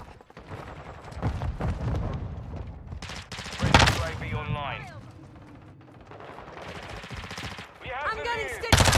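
Slug shotgun fire in a video game: scattered heavy shots and rattling bursts, loudest around the middle, with whistling effects and some voice in the background.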